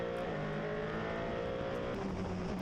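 Single-seater race cars roar steadily around the Estoril circuit during an endurance series race. The engine drone is distant and continuous, with a slight pitch shift as cars pass.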